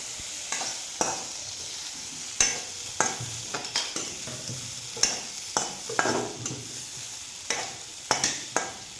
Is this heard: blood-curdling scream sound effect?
no